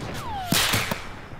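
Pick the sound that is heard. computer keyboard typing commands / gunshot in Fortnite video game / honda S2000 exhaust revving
gunshot in Fortnite video game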